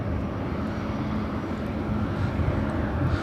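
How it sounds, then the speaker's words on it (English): An Air Canada Boeing 787 Dreamliner takes off from runway 25 Right at LAX, its engines a steady, broad roar that holds loud and unbroken throughout. "Air Canada Dreamliner taking off there on the south side off a 25 right"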